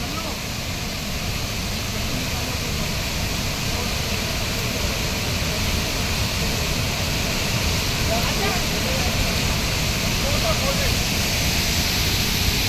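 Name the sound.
Harvale waterfall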